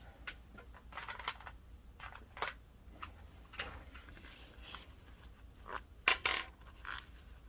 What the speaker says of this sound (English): Now it's time to put our zipper pulls on